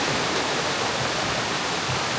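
A natural waterfall at Badiang Spring Resort gives a steady, loud broadband rush of falling water that fills the whole moment, with no voices heard.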